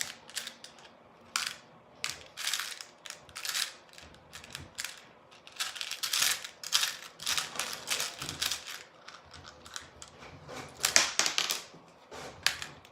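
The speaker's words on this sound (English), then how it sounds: "And that noise is the printer." A home printer printing in the background, giving a busy run of rapid mechanical clicks and rattling bursts that come and go unevenly throughout, moderately quiet.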